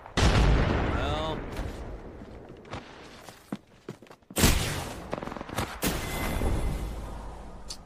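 A grenade blows up in Apex Legends with a loud opening boom, and heavy gunfire and further blasts crack and rumble through the chaotic firefight that follows.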